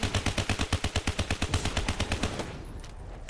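Automatic gunfire rattles in a rapid, even burst in Black Ops 3 Zombies on a custom Monopoly map, loud and close, slowing and fading toward the end.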